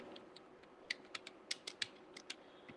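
Keys tapped on a computer keyboard while typing in MS Word, irregular light clicks in short bursts, quiet and close over a faint background hum, with no talking.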